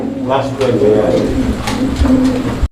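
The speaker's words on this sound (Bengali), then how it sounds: "সুপ্রিয় দর্শক বন্ধুরা আমরা এই মুহূর্তে দেখতে পাচ্ছি আরো এক জোড়া কবুতর।" Crested fancy Bombay pigeons coo in soft, repeated throaty calls at close range while someone talks over them at a pigeon sale.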